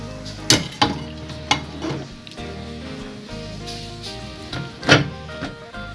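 Cinnamon and cardamom mandazi dough frying in hot oil gives a soft steady sizzle, broken by a few sharp clinks and scrapes of a metal utensil against the pan.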